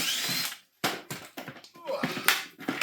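Screws being undone on a Numatic Henry vacuum cleaner, likely with a power driver, in short bursts of whirring with brief pauses between them, close and fairly loud.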